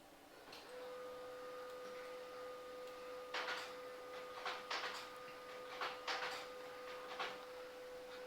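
Canon LBP2900 laser printer running with a steady electronic whine throughout, joined by repeated clicking and rattling mechanical bursts at irregular intervals, fairly faint and with no talk.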